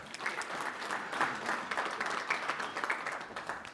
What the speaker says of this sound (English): Let's give a round of applause to Gary.